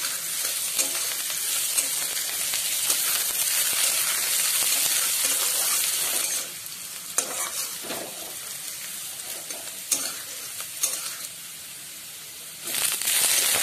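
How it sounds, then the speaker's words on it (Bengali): Potatoes and carrots fry in a pan for a rice-flake pilaf, giving a steady close sizzle with scattered scraping stirs; the hiss briefly eases before swelling again, and no one speaks. "গাজরগুলো 1 মিনিট ভেজে নেব।"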